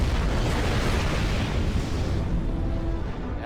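A starship blows up during a Star Trek video game ship battle between a Sabre Class vessel and a Klingon Bird of Prey, a loud, dense roaring blast that fills the whole moment and slowly thins out toward the end.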